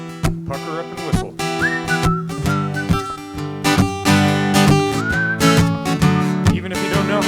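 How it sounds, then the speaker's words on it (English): Whistling blends with a busy band or music bed at an assembly: bright pitched glides rise over dense sustained tones and steady beats, fairly loud throughout. "Pucker up and whistle."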